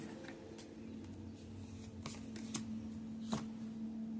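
A deck of cards being shuffled close by, with quiet riffling and several sharp snapping flicks over a low steady hum.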